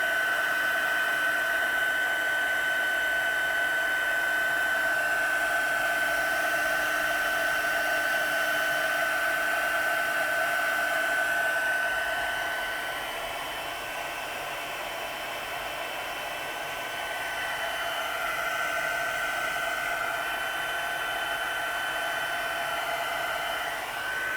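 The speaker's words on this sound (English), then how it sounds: "You can move the colour around with your heat gun." A heat gun blows hot air over colour and sprinkles during Christmas crafting, a steady, close whoosh with a faint high whine that eases a little midway and then comes back up.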